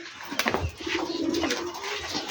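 Rajshahi Giribaj pigeons coo in a low, rolling throaty drone close up, with some rustling and faint background noise over the steady cooing.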